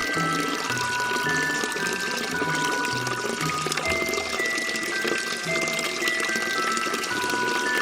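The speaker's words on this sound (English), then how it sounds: "Pour the whole bottle lovingly into your chalice." Liquid pours steadily from a bottle into a small chalice, a continuous splashing trickle that runs the whole time under a soft background tone with brief tinkling.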